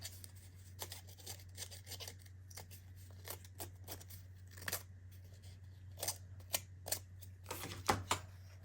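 Scissors rasp and scrape along the edges of budget junk-journal background paper, giving a series of short, crisp scratching strokes at close range over a steady low hum, with no one speaking.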